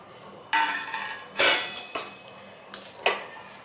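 Cooked white rice is mixed in a pot, a spoon clanking and scraping against the metal in several distinct knocks with quieter stirring between them. No one talks.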